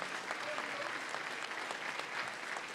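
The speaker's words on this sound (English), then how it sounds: "Please give them a round of applause." An audience applauds young debaters at a debate championship and awards event, a dense, steady wash of clapping that fills the whole moment without a break.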